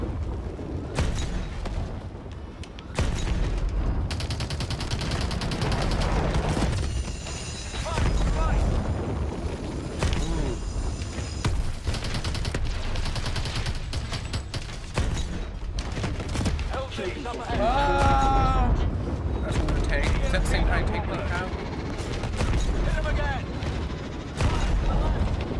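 Repeated gunfire and explosions in the futuristic shooter Call of Duty: Advanced Warfare during a battle with tanks and infantry, loud and continuous bursts mixed with booms, with voices shouting over the combat.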